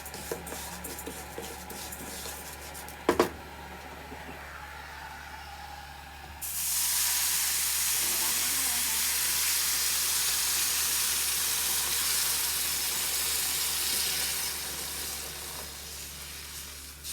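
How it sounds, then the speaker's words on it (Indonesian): Water poured into a pan of macaroni sautéed until lightly browned, setting off a loud, steady sizzling hiss that rises abruptly and holds, after a brief clatter, with no talk. "Nah sekarang kan saya masukkan air untuk merebus."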